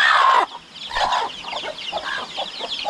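Hen clucking near her ten large chicks on a Philippine farm, a loud close burst of chicken calls at the start followed by softer, repeated clucks and peeps continuing steadily in the background.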